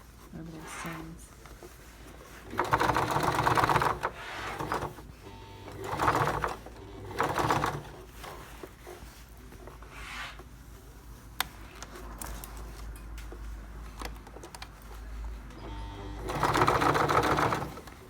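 Sewing machine stitching over the seams of a Stacie Jean jacket, running in several bursts of a few seconds with pauses between, the motor sounding a little rough, with talking faintly in the background.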